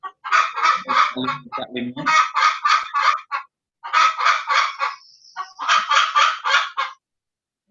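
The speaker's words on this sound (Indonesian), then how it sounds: "Ayam siapa tuh? Ayamnya ketawa." Chicken clucking and cackling in rapid, laughter-like bursts, loud and close, in several runs separated by short pauses.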